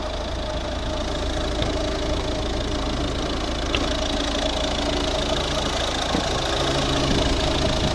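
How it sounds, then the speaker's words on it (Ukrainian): A 2010 Volvo V50 1.6 D2 diesel engine idles with a steady, slightly knocking rumble, close by and even throughout, no talking. "Дуже-дуже класна робота двигуна"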